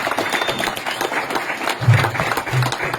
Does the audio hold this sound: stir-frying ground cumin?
no